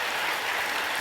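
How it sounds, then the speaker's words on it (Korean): A church congregation claps in a brief, dense burst of even applause with no speech over it. "여기 박수 쳐도 괜찮은데"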